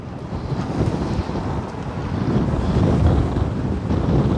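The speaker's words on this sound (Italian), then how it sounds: "senti questo vento che ti è amico" Outdoor wind blows steadily and loudly during a movement and balance session, a broad rushing roar that swells slightly over the few seconds, buffeting the microphone, with no talk.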